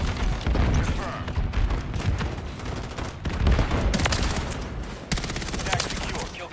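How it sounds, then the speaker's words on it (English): A stun grenade and gunfire in a shooter game, with a dense, loud run of rapid shots and bursts and sharp blasts breaking in partway through. Speech can be heard under the firing. "Throw in a stun grenade!"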